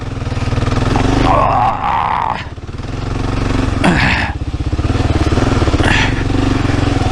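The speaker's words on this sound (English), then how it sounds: "taking a 500-pound motorcycle through sand" A 500-pound motorcycle engine roars close by, revving and labouring unevenly as it pushes through sand, with brief dips and surges in loudness.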